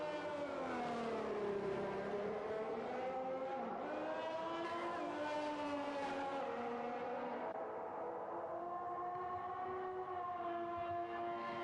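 Formula 1 cars in a Chinese Grand Prix round of F1 2021 roll out onto the circuit, several engine whines rising and falling in pitch, steady and fairly loud with overlapping cars throughout.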